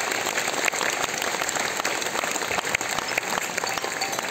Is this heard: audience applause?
yes